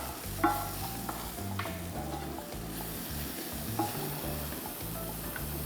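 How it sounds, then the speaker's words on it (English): Red onion and garlic sautéing in oil in a pan, a quiet steady sizzle with occasional stirring scrapes and clicks, no talking. "Then I'm going to start sautéing the red onion"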